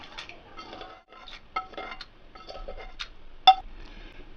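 Fried tempering being tipped into peanut chutney, with close metal utensils clinking and scraping against a bowl in irregular taps, one sharper clink near the end, no voices.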